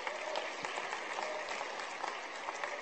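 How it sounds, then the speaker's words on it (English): Steady applause from a church congregation during a Baptist worship service honouring a guest, a continuous even wash of many hands clapping with no talk over it. "Can we put our hands together for Dr."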